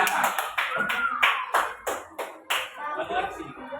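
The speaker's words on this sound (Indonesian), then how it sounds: "kita tepuk tangan untuk kelompok 2" A classroom group claps together for a student team, about a dozen sharp, close claps in a loose rhythm, some slightly uneven, with faint voices in the background.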